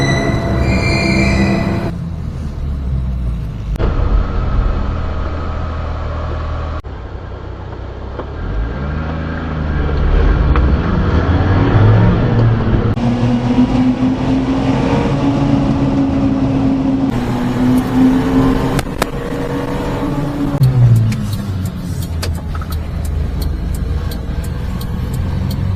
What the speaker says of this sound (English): Oh no, the salt truck